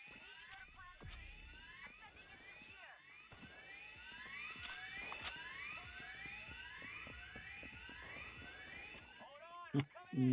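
A heist drill whirs and pulses steadily in the video game Payday 3, a rising, repeating buzz that carries on for several seconds, with a player talking briefly near the end.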